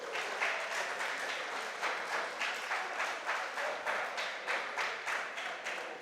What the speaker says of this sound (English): I expect you clap for them.